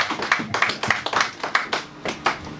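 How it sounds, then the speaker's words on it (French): A church congregation applauds, with a handful of separate hand claps landing in a loose, uneven rhythm, fairly close and moderately loud. "Acclamons pour la gloire de Jésus."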